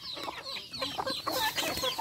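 Chickens cluck busily as they are fed, a close, quick run of short clucks and murmurs over about two seconds.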